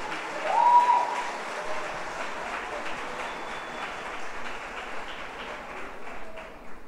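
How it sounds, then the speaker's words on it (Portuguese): A church congregation applauds during a fourteenth anniversary service: a soft, continuous wash of clapping heard from a distance, fairly muffled and steady throughout, with no speech on top. "Vamos aplaudir o Senhor Jesus"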